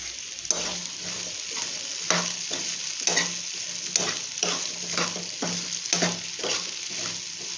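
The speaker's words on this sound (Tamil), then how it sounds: "ஒரு ரெண்டு நிமிஷம் அப்படியே எண்ணெயிலே ஓகே எண்ணெயில் கொஞ்சம் வதங்கட்டும்" Sliced okra (ladies finger) fries in oil in a home kitchen, a steady soft sizzle broken by regular spatula stirs and scrapes about once per second.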